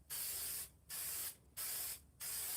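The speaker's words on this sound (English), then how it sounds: "Just spraying back and forth." A spray paint can coats a Jason mask in four even, steady hissing bursts separated by short pauses as it sweeps back and forth, close and alone.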